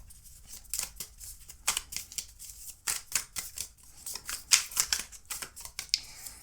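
Tarot cards being shuffled and drawn from a deck during a card reading, a rapid run of crisp papery flicks and slaps close by, with no talking.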